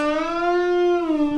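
A guitar string bent too far, sustaining a single bright tone that rises and overshoots its target pitch before settling, played alone and up close.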